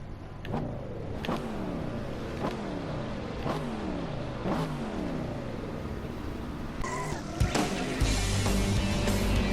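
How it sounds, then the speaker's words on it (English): A Corvette in a racing video game launches and accelerates, its engine note climbing in repeated rising sweeps as it shifts through gears, loud and steady, with a harsher surge of noise near the end. "they're the same vehicle, so I wouldn't expect one Corvette to have a noticeably better launch than the other"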